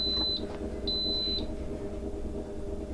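An Instant Pot gives two short, high electronic beeps after start is pressed, close and clear over a low kitchen hum.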